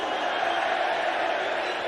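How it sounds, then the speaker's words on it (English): Darts crowd at a Premier League night, a dense steady roar of many voices, continuous and moderately loud, with faint speech mixed in. "the crowd is starting to get involved now"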